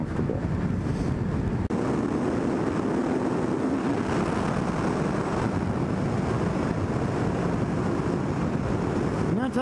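Engine of an '09 Suzuki Hayabusa motorcycle accelerating hard to pass on the road, a loud steady roar buried in heavy wind rush throughout.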